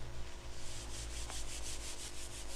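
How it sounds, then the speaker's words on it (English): A paper tissue rubs back and forth along a PVC pipe in a quick, even swishing rhythm close to the microphone, a soft papery scrub that keeps going steadily over a low background hum. "首先用紙巾摩擦 PVC 管"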